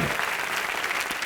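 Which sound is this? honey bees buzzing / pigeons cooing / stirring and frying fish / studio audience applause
studio audience applause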